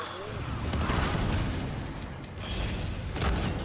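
A mine goes off during an online Frontier match of Call of Duty: Infinite Warfare on PS4, heard as a dense, loud rumbling blast over continuous game noise with a second burst near the end.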